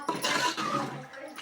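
A glass of water poured into a hot pan of chilli-spiced curry, giving one short rushing splash and hiss up close, about a second long, with no talking.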